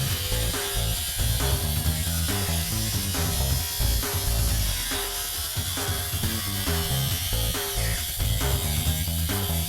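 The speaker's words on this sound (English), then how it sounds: "it's a matter of cutting off the back of our new quarter panels and trimming off the fat" A power tool cuts and trims new sheet metal Camaro quarter panels, giving a continuous loud, buzzing mechanical whine with rhythmic pulsing and grinding chatter throughout, no voices.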